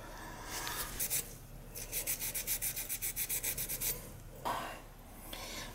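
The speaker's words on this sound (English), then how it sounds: "just got this old worn out sandpaper I use on there. Give it a bit of cleaning." Worn sandpaper scrubs a gas furnace part with short, rhythmic back-and-forth rasping strokes, close and fairly quiet, in bursts separated by brief pauses.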